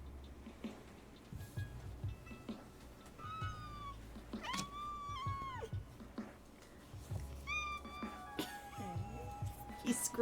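Several kittens meow in high, rising and falling cries spread across the clip, some close and loud, others softer, with low background rumble and a bit of voice mixed in.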